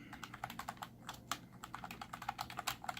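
Typing on an NPET G10 membrane gaming keyboard, a steady run of soft, muffled keystrokes at an even pace, close and fairly quiet, with no talking.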